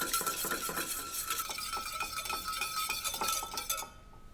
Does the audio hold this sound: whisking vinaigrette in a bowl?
yes